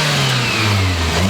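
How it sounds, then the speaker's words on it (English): A car engine running with overfilled engine oil revs up steadily, a loud, close, continuous mid-pitched drone that holds and rises without pause. "So let's give this thing a few revs."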